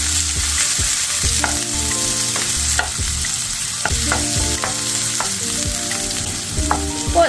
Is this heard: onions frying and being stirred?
yes